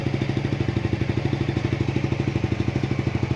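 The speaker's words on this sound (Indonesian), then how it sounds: "untuk suara mesin cukup halus juga, dan tarikan juga lumayan mantap" A 150cc sport motorcycle engine runs steadily nearby, its rapid even pulsing thrum holding a constant rhythm throughout.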